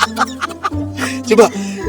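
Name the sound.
chicken clucking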